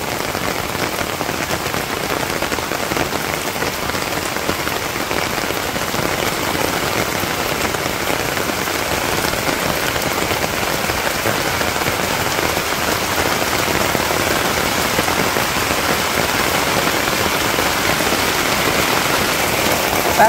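Steady rain pours down during the rainy season in rural Bangladesh, a dense, continuous hiss of drops on surfaces that holds an even level throughout with no voices.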